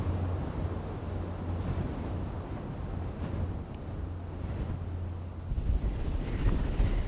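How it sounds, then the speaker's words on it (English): Strong wind over a mountain ridge near Slioch in Scotland buffets the microphone in a loud, continuous roaring rumble that swells toward the end, with no voices. "What a wind!"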